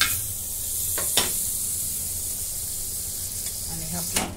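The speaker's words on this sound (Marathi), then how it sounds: "याच्यामध्ये बटर टाकून घेते तव्यामध्ये." Butter sizzles on a hot tawa under a potato paratha, a steady close hiss with a few sharp crackles and clicks.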